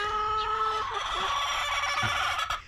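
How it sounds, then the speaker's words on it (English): Backyard chickens clucking as they scratch and dig through sawdust, a dense, continuous chorus of close, busy clucks and calls with no talking over them. "I'm really thrilled with these chooks"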